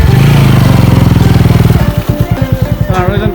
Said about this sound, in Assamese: বাইকটো ইয়াতে ৰখাই দিয়া যাওক